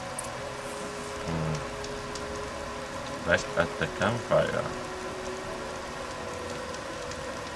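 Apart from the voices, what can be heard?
rain in the video game Horizon Zero Dawn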